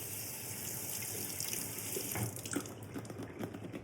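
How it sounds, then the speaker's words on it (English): Strawberries rinsed under a running kitchen tap, a steady close hiss of water into the sink with brief splashes and shifts as the fruit is moved through the stream. "So I'm going to go ahead and rinse out my strawberries."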